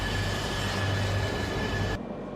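A freight-only Shinkansen train on the Tohoku Shinkansen line, heard as a steady rushing rail roar with a faint high tone, cutting off abruptly near the end.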